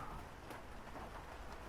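Rain falls steadily outside a window, a soft, even hiss of drops heard from indoors without any voices.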